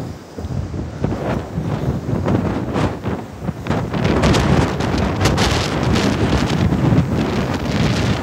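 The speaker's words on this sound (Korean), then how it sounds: "바람이 불어. 여러분들 바람 소리 들어가. 바람 소리 나지야." Strong wind buffets the microphone at a beach during Typhoon Maysak, a loud, continuous roaring rumble that swells and gusts throughout, with surf and rushing water mixed underneath.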